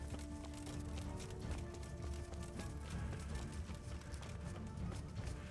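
Horse hooves gallop in the medieval video game Kingdom Come: Deliverance, a quiet, rapid, continuous clip-clop rhythm running under a low game soundscape with no talking.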